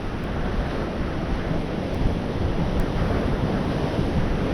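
Rough sea surf breaks along a rocky fishing spot where surfers ride the whitecapped waves, a loud continuous roar of churning water mixed with buffeting wind on the microphone.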